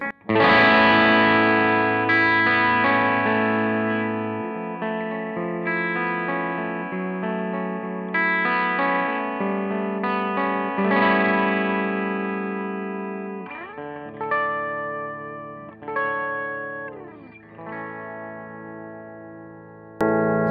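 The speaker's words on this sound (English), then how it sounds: "Bit of reverb." Clean chords on a PRS S2 McCarty 594 electric guitar ring out with a wash of reverb, notes sustaining and blending into a spacious tail, played alone without voices.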